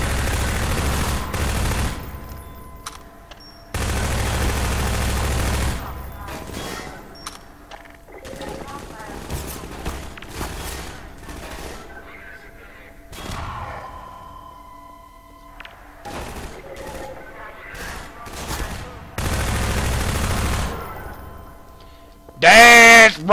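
Machine gun fire in the video game Half-Life 2, several separate bursts of rapid shots with quiet gaps between them, and someone talking over parts of the action.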